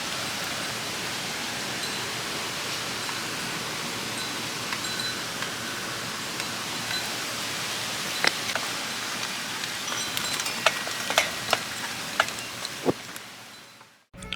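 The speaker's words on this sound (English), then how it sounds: "Almost as soon as I got the umbrella put down, it started pouring" Heavy rain pours down steadily in a dense, unbroken hiss lasting throughout, with scattered sharper drops and taps near the end before it cuts off. No one speaks.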